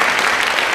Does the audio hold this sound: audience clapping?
yes